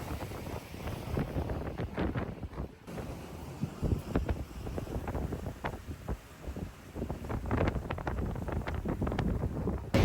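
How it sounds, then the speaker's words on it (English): Steady wind buffeting the microphone aboard a diesel-electric speed boat on the water, a constant rough rumble with gusty surges throughout, no voices. "It gets pretty windy out here if we're not careful"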